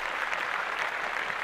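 Podcast hosts clap in the studio, a quick, even patter of hands that carries on steadily and sits at a moderate level.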